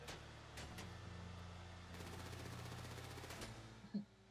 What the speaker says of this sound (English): quit shooting my RV